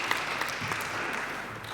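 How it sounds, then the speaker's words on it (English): A conference audience applauds a panelist called to the stage, soft even clapping from a moderate crowd heard at some distance, fairly faint and without talk. "Applause, applause."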